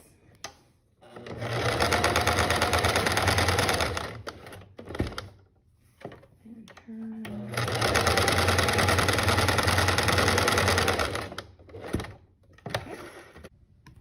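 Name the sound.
sewing machine stitching a bag into a mask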